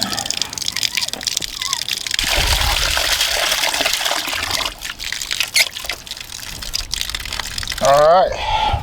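Water gushes and trickles steadily from a garden hose after a freeze on a homestead, close and fairly loud, with a voice speaking briefly near the end.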